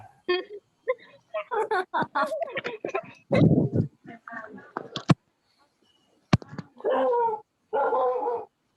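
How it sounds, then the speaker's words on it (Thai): A dog barks in short sharp bursts and yips between stretches of someone talking, with the barks loud and close, scattered irregularly across the clip. "บิ๊กเห่าวะ"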